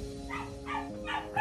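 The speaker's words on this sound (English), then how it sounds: "apologize for the dog, but you know, we can't control them if they're barking." A dog gives three or four short barks in quick succession at moderate distance, over a steady low hum.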